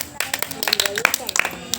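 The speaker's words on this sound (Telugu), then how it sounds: "చాలు క్లాప్స్ కొట్టండి ప్రభు" Scattered hand claps in a church prayer meeting during a fasting prayer service, irregular and close, mixed with voices talking over them.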